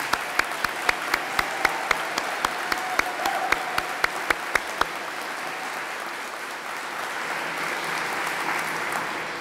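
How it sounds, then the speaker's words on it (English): A crowd at the grand opening of a new transit facility gives a round of applause: distinct, regular sharp claps stand out early, then blend into a softer continuous wash of clapping. "if we could have a round of applause for him,"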